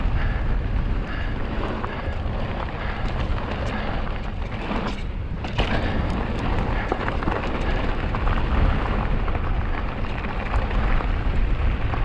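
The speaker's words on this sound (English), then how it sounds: "There's a little bit of a headwind today." A strong headwind buffets the microphone on a mountain bike trail. Loud, rough, continuous rushing gusts dominate, with only a brief dip in the middle.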